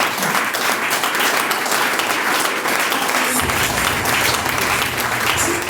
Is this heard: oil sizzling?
no